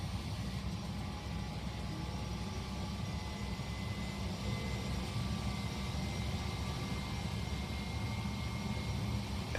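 A steady, continuous engine whine and low rumble from an AW109 helicopter spooling up in the Prepar3D flight simulator, droning evenly throughout without talk.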